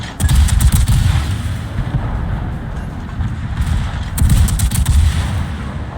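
Warship guns firing HE shells in a naval combat game: loud, booming salvos with a rumbling low end, a dense opening volley, a steadier middle and another strong burst near the end.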